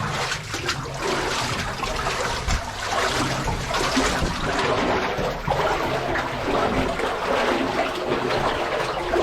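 Steady rushing and trickling water in a flooded mine level, a dense continuous wash of splashing and flow with no voices.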